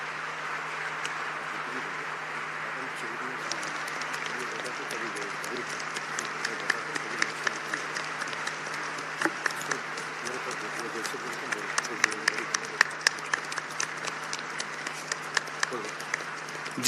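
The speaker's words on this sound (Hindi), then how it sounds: "जोरदार तालियों से उनका स्वागत और अभिनंदन करें।" Sustained audience applause welcoming the President at a cultural festival gathering in Ranchi, a steady mid-distance wash of clapping that grows a bit more distinct toward the end.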